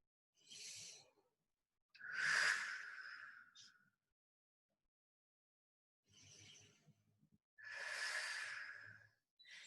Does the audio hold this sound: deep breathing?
yes